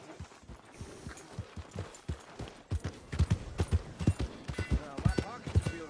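Hooves clip-clop steadily on ground as a horse walks in Red Dead Redemption II, the rhythmic thuds growing louder and quicker toward the end, with someone speaking briefly alongside.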